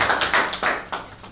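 Audience applause at a disability booklet launch and Braille handover, a short burst of clapping in uneven waves that swell and fade several times within about a second and a half.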